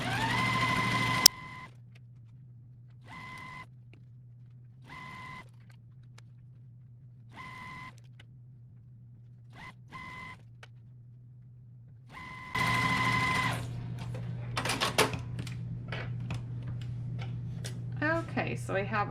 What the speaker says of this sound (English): then I'll come back and put one in the opposite corner, and then we're going to sew on that line as well